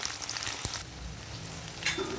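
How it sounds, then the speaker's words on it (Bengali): Chopped onion frying in hot mustard oil for chowmein, a steady close sizzle with a brief stir clatter near the start, heard alone. "পেঁয়াজ কুচিটা দিয়ে দেবো গরম তেলে। এবার একটু পেঁয়াজটা ভেজে নেব"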